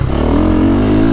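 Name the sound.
KTM 450SXF Factory Edition dirt bike engine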